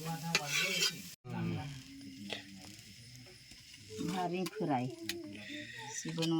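Karadu fries in a pan, giving a steady sizzle with stirring scrapes, close by. A person speaks over much of it.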